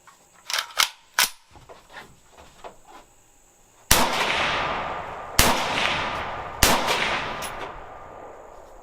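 Test firing of a JRA Gallant Gen II rifle from surplus magazines: a few light clicks and handling noises, then three loud, sharp rifle shots spaced about 1.5 seconds apart, each followed by a long ringing decay outdoors.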